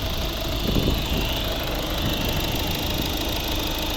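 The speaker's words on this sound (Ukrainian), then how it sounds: "двигун ідеально тихо рівно працює." A 2011 Volvo V50 1.6 D2 diesel engine idles steadily up close, a continuous even rumble with a faint knocking texture and no talking.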